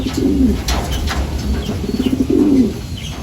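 Racing pigeons at a loft give soft, throaty coos in a few short bursts over light background noise.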